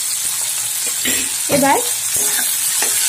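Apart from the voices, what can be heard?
tomatoes frying in a pan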